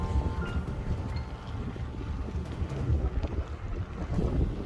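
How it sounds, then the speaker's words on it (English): Wind buffets a microphone outdoors in a low, steady rumble that gusts throughout, with no voices. "the wind's starting to pick up"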